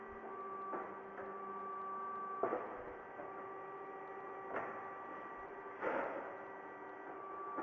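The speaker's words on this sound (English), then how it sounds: "The back gauge feeds the completed duct out of the brake and onto the powered exit conveyor." A Ductformer AutoBrake DB-60 duct brake runs with a steady electric hum and whine while its back gauge feeds finished sheet-metal duct onto a powered exit conveyor, broken by a few soft mechanical clunks.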